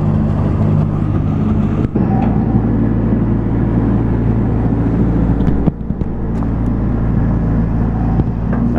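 Engine of a 2009 Finn T90 hydro seeder running loud and steady close by, a deep continuous rumble with no clear rise in revs, no talk over it.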